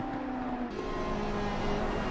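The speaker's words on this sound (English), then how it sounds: "I want to hear that Italian roar, that engine, all of those angry red and yellow ponies trying to get around an Audi here" A Ferrari race car engine in the racing game Assetto Corsa Competizione, on the Watkins Glen circuit, roars loudly and steadily throughout, its pitch shifting briefly partway through as the car accelerates.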